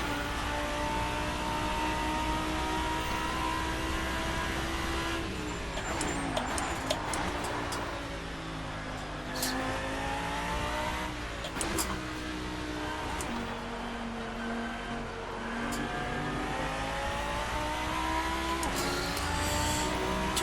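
A Race Sim Studio GT-M Lanzo V10 Evo2 race car driven on track in the Assetto Corsa sim, its steady engine note rising and dropping through gear changes, with brief clicks and tyre noise over a constant drone.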